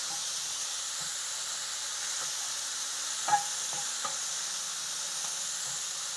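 Rinsed tinned chickpeas fry on high heat in a pan with a steady, even sizzle and hiss, while a spoon stirs them in a few soft scrapes and one sharper knock partway through.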